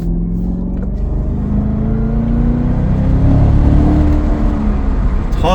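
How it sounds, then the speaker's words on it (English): A supercharged Cadillac CTS-V accelerating hard, with a rising supercharger whine over a loud, rumbling drone heard from inside the cabin. "Want to be able to hear that blower whine a little bit more from the cabin."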